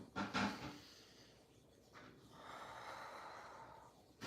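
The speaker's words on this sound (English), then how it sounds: "We're going to take 2 more breaths here." Slow deep breathing during a beginner bedtime yoga session: a sharp inhale through the nose, then a long, soft exhale, close and quiet, with no talking.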